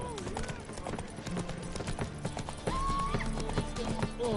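In The Witcher 3, the horse Roach gallops with rapid rhythmic hoof clops and a brief whinny, mixed with game effects and music and partly under voices.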